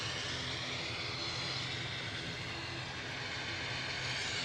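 A TUI Dreamliner at Manchester Airport gives off a continuous broad jet roar, moderately loud and steady, with no break or talk over it.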